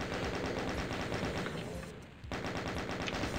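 Rapid sustained chaingun fire in Final Doom, a dense loud stream of shots with a brief dip in the middle before the barrage resumes.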